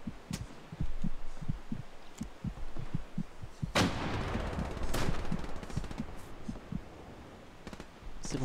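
Gunfire in the video game Hell Let Loose comes as sharp repeated shots, some distant and rhythmic and a few loud close cracks. Faint muffled thuds run under them.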